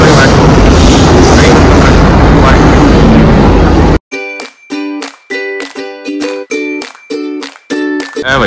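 A Delhi Metro train ride heard in two parts: first a loud, dense roar of the moving train, then a series of regular tonal chimes or beeps in a quieter, choppy stretch, like onboard announcements or door signals.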